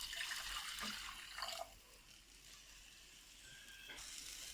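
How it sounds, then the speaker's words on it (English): Water running and trickling into a cooking pot while preparing okra soup, a soft splashing pour that eases off partway through, faint and close with quiet kitchen background. "And I also add water."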